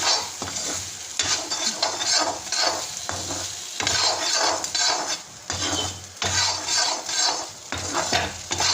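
Fried rice is stirred in a hot pan, with a spatula scraping and clinking against metal in repeated bursts over a constant sizzle, close and loud with no talk.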